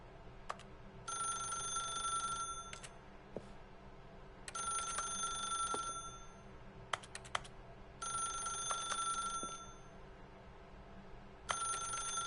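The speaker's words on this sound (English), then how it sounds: "then pick up the phone." Telephone ringing inside The Stanley Parable video game, a repeating electronic ring in four bursts separated by short pauses, clear and fairly close over a low steady hum, with a few faint clicks between rings.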